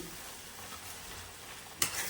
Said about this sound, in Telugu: చక్కగా తాలింపు చేసుకున్నాను